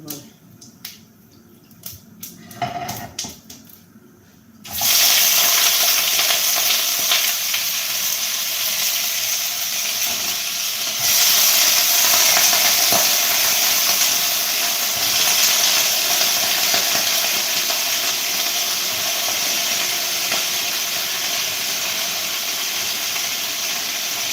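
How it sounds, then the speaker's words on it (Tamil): Potatoes frying in a pan at home give a loud, steady sizzle and hiss that starts abruptly after a few seconds of quieter background noise and runs on continuously. "அக்கா வீட்டில் வந்து உருளைக்கிழங்கு வறுத்துட்ருக்கேன்"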